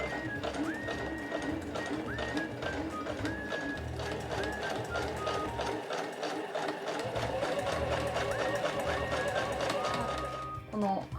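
A domestic sewing machine runs long basting stitches at its maximum 5.0 stitch length around a quilted body bag, a fast, steady needle rattle that continues for several seconds, briefly eases midway, then stops.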